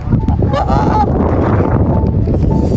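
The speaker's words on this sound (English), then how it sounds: "The geese have been fed" Several geese honk nearby over loud wind buffeting the microphone, their calls brief and overlapping.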